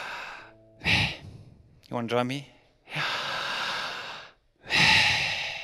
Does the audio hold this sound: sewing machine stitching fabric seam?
no